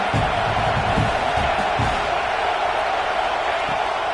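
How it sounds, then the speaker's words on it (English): Steady roar of a football stadium crowd in a video game, cheering continuously at a loud, even level throughout. "This crowd knows when to bring it."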